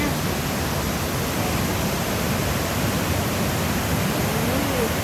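A waterfall in a Thai national park pours with a dense, steady roar, loud and close, an unbroken wash of rushing water with no other sounds or talk.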